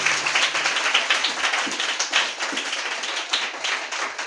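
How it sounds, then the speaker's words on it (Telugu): A church congregation claps loudly and continuously, many hands forming a dense, bright wash of overlapping claps with slight rhythmic surges throughout. "గట్టిగా చప్పట్లు కొట్టు."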